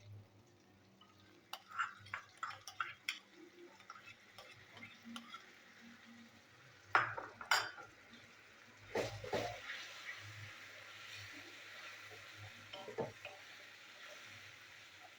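Tomato paste with two green chilies being sautéed together in a pan for a chickpea dal, heard as faint, intermittent spoon scrapes and soft sizzling in a quiet room, with no talking.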